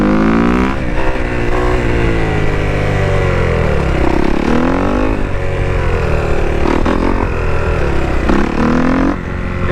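A motorcycle engine revs hard through repeated throttle bursts during wheelies in fourth gear with no clutch, its pitch rising and falling in loud, close surges across the whole stretch.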